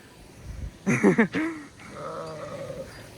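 Sheep or goats on a mountainside near Zugspitze, Germany, give a few wavering bleats up close: a quick cluster of cries, then a longer, softer bleat over faint outdoor background.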